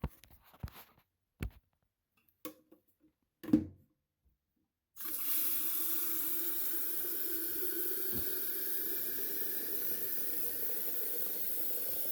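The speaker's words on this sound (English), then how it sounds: "Refill the kettle." Several soft knocks and clatters, then a tap turns on and water runs steadily into a kettle, a continuous hissing splash that carries on to the end.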